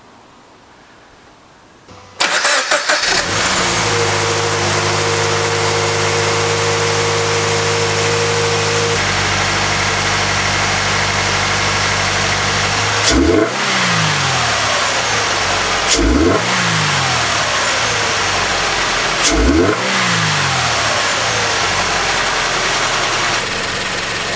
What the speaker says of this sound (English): I'm going to start the car up and let you guys listen to what it sounds like.